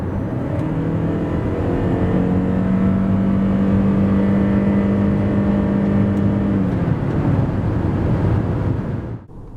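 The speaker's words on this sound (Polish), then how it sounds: "a tak od 90 do 140 km na godzinę" At full throttle, a 2.5-litre Lexus NX 450h+ plug-in hybrid SUV pulls from 90 to 140 km/h with a sustained loud engine drone and steady road and wind noise, then drops off abruptly at the end.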